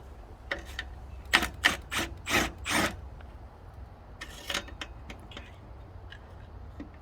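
Metal ratchet or wrench working a stuck nut loose on a Suzuki GT80 engine during engine removal: a burst of sharp, close rasping clicks, then a pause and a shorter second flurry of clicks in a quiet workshop.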